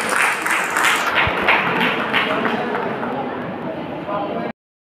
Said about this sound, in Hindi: 10th पास आउट की तालियां बजा दीजिए आप लोग